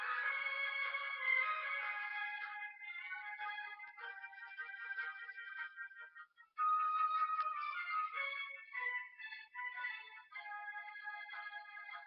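A cell phone ringtone plays a theme from Super Mario Galaxy, a bright electronic melody carrying on steadily with one brief break near the middle.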